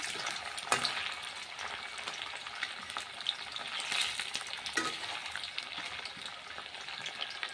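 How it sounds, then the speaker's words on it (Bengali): Chicken pieces sizzle steadily in hot oil, with occasional scraping and clatter as they are turned and stirred in the pan. "এবার উল্টে পাল্টে ভেজে নিতে হবে"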